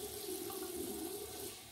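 Water splashes faintly and continuously for a moment as a face is wetted before a shave.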